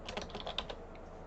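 Quick, close keystrokes from someone typing code on a computer keyboard, about a dozen light taps in an uneven burst that thins out toward the end, with no talking.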